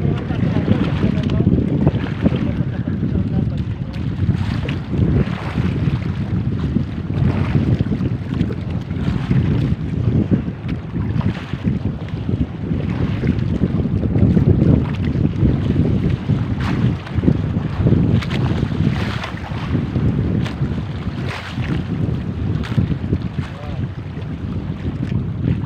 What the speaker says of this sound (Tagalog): Tag-amihan na, malakas ang amihan.